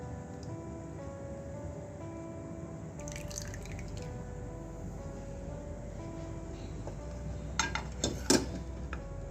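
A coffee jelly mixture is poured into a bowl, making a faint, quiet trickle that ends in a few distinct drips.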